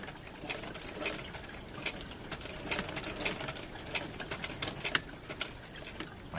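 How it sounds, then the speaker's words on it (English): A sewing machine back stitches in reverse along a West German mess kit retaining strap, giving off a rapid, irregular run of sharp clicking needle strokes at close range with no talk. "I'm going to set this for a reverse stitch so I can back stitch."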